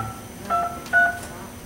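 Phone dialer key tones in the Firefox OS simulator: two short, clear dual-tone beeps a fraction of a second apart, over low background noise.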